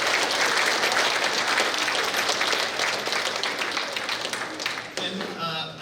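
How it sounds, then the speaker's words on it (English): A crowd applauds at a school awards day with dense, steady clapping that gradually thins and fades near the end, where a voice briefly cuts in. "Let's give Tate a round of applause."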